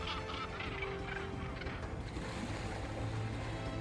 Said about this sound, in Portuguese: As aves marinhas associam-se ao plano e começa a pescaria.